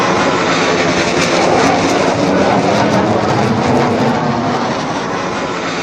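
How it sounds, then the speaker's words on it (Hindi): An American F-15 fighter jet roars overhead in Iranian skies, a loud, sustained broadband jet rumble and rush that stays steady and dominant throughout, with no voices. "उधर दूसरी तरफ ईरान के आसमान में अमेरिकी फाइटर जेट्स F-15 भी नजर आया।"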